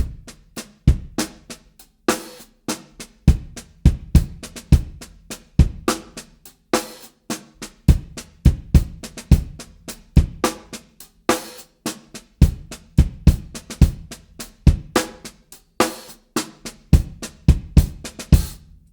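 A drum kit plays a steady groove at a moderate tempo, with punchy kick and snare hits and crisp cymbal strikes repeating in a tight rhythm, close and alone.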